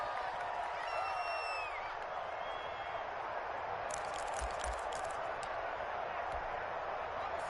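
Broad, steady roar of a large crowd at a Houston Texans NFL football stadium, continuous and distant-sounding, with a commentator's voice running over it throughout.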